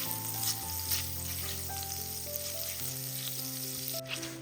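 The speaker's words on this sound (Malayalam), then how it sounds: "ബട്ടർ ഒന്ന് മെൽറ്റ് ആവട്ടെ." Butter melting in a hot pan over low flame gives a soft, steady sizzle and crackle, close but quiet, with a faint tonal background and no talking.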